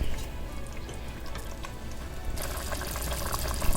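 Chicken curry gravy coming to a boil after water is added, a soft bubbling and liquid simmer that grows brighter and busier partway through, quiet and without talk.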